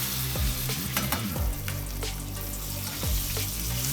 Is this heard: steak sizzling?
yes